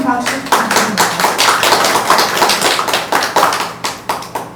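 An audience at a women's and family policy forum on climate change applauds. The clapping is close, loud and rhythmic, with individual claps in quick succession throughout.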